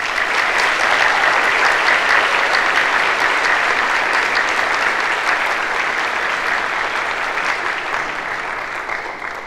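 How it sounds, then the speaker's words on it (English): A high school graduation audience applauds steadily, a dense, sustained wash of many hands clapping that fades slightly toward the end. "Students, please give your faculty and staff a round of applause."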